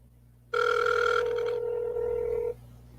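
Telephone ringback tone on an outgoing call, a steady electronic ring sounding for about two seconds, loud and close, with no talk over it.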